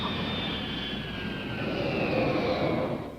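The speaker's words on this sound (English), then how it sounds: "During this phase of testing, the plane made touch-and-go landings." An airplane doing touch-and-go landings during test runs gives a steady, loud engine roar with a slowly gliding whine, heard alone throughout.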